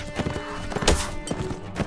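Horse in the video game Mount & Blade: Warband, heard as rapid clip-clop hoofbeats mixed with thuds and combat noise, dense and close throughout.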